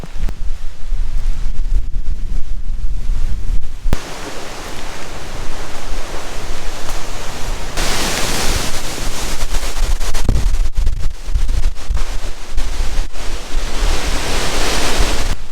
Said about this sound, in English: They catch a ton of wind.